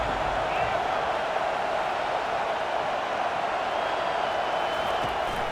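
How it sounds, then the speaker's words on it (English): A home stadium crowd roars in College Football 25 as the defense tries to get off the field on third down, a dense, steady wash of cheering noise. "Here comes this home crowd as the defense tries to get off the field on 3rd down."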